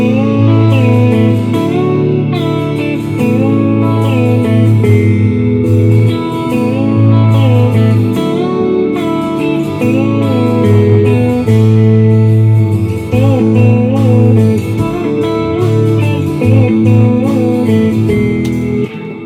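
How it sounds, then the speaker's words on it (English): Warm, well-balanced acoustic guitar sits within a full, loud band mix during a recorded song section, its strummed and picked notes blending with bass and other instruments throughout. "So just a great sounding acoustic guitar,"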